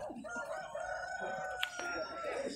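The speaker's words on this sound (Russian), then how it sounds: "А что за порода курочек? Конхинхины карликовые." Dwarf Cochin chickens at a January poultry show in Kropotkin cluck and crow nearby, with a short sharp cry standing out over steady crowd murmur and faint talk.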